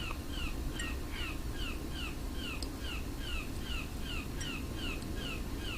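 A bird outdoors gives repeated harsh, crow-like caws in a steady rapid series, fairly loud and close over constant background noise, with no talking.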